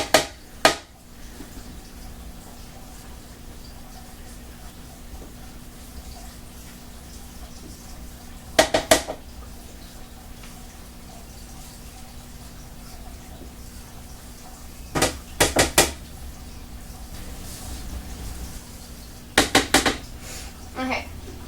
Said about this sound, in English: we need to scoop the pumpkin out of the skin and put it into our food processor